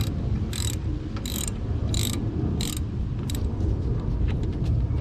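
A hand tool tightens a rear brake caliper slider pin bolt on a 2016 4th-gen vehicle, giving several short bursts of close ratcheting clicks over a steady low background hum.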